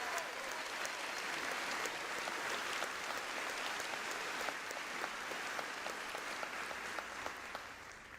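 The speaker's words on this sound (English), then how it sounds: "I'll ask that we please join in a final round of applause for all of our award winners." A large audience at a university spring commencement ceremony applauds award winners, dense sustained clapping with a faint hint of a voice at the far end.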